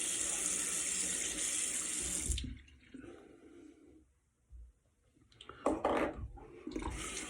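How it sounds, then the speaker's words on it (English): Cool water gushes from a bathroom sink tap, then cuts off, followed by soft splashes and drips as handfuls are brought to the face, before the tap runs again briefly at the end. "Gonna put a little cool water on the face."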